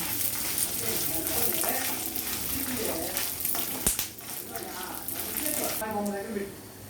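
Steady, close sizzling of stuffed brinjal (eggplant) frying in hot oil, a continuous crackling hiss with no pauses.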